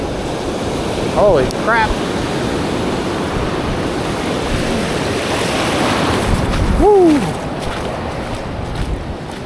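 Rough ocean surf washes in at a Jacksonville, Florida beach as a loud, steady roar with gusting wind on the microphone, and someone shouts excited exclamations over it.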